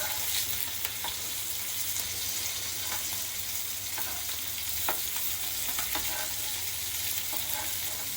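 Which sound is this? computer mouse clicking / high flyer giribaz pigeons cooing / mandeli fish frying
mandeli fish frying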